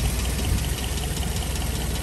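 A Land Rover Series 2a 88-inch soft top's 2.25-litre petrol engine, a three-bearing unit with a small carburettor and an unleaded conversion, idles steadily up close, a continuous even rumble with no voices.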